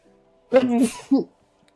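A single sharp sneeze close by: a short voiced intake followed by a breathy, noisy burst, then a brief vocal catch.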